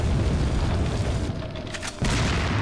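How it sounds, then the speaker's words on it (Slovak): Bomb detonated in the video game Resident Evil 4, a heavy booming rumble that rolls through the clip, dips briefly, then swells again at full strength. "Nech vybuchne aj tú bombu"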